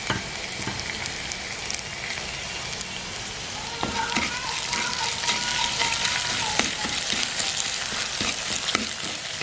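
Fenugreek seeds crackle and sizzle in hot oil for a village-style dry fish curry, a steady close frying hiss with small pops and stirring scrapes throughout, growing slightly louder midway.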